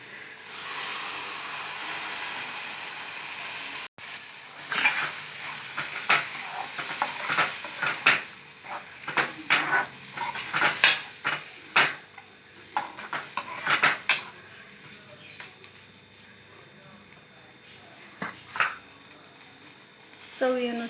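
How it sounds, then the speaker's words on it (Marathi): Tomato-onion gravy for shev bhaji is added to a hot pan and stirred, with a spoon clanking and scraping against the metal over a soft sizzle, in bursts of stirring before settling into quieter frying. "आता मी हे ग्रेव्ही केलेलं ह्याच्यात घालणार आहे"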